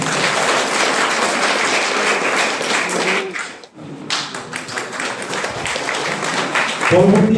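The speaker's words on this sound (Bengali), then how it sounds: "হাততালি দিতে পারি" Dense audience clapping at a police station ceremony handing cheques to Durga Puja committees in Hariharpara, loud and continuous, dipping briefly near the middle before picking up again, with voices mixed in toward the end.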